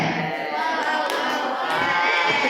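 A classroom of students performs a rhythmic group clapping routine, with claps mixed into voices chanting along, busy and fairly loud throughout.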